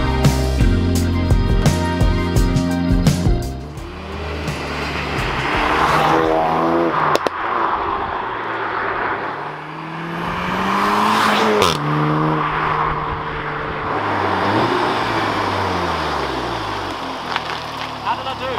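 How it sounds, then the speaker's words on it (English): Hot hatch, a Golf R or Focus RS, revving hard as it drives past, with loud rising engine notes and exhaust cracks over continuous road noise, plus some background voices. "You were holding the revs and it cracked when you went past the camera"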